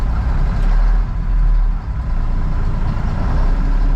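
A truck engine runs in first gear high, a loud, steady low rumble close by with a slight dip and recovery midway and no talk over it.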